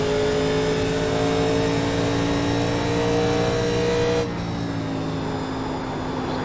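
A 1987 NASCAR Legends race car engine in iRacing at Darlington roars loud and steady at high revs, then the note drops abruptly as the driver lifts off, continuing at a lower, whining pitch.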